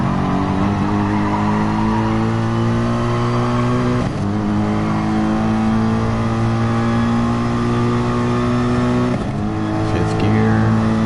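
A race car engine in a racing game holds a steady, tonal high-rpm drone, drops sharply at two gear shifts and climbs again, with a voice speaking over it.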